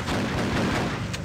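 A shotgun fires in the Freedom Fighters video game, delivering a single short, loud blast with rumbling decay and no voices.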